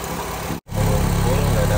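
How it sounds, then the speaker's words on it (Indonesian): A 2016 Honda HR-V 1.5 CVT engine idles steadily with a smooth, even hum, nearly constant in level apart from one brief gap. "Suara mesin halus, standar normal."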